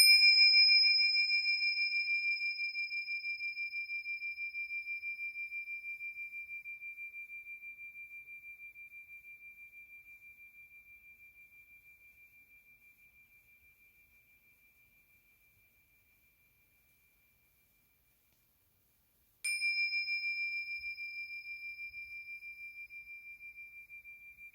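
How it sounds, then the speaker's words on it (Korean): A meditation bell is struck twice, each strike a clear pure ringing tone that fades slowly into silence over many seconds, the second strike coming after a long quiet pause. "종소리에 잠깐 마음을 모으는 시간을 갖도록 하겠습니다."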